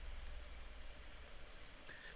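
Steady, faint rain patters as a soft, even wash in the Forest of Drizzling Rain game, with no other sounds over it.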